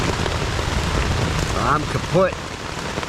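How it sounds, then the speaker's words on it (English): Heavy rain beats steadily on a tent in a severe thunderstorm, a dense close roar throughout, while someone speaks briefly over it. "Hopefully it stops raining so intensely."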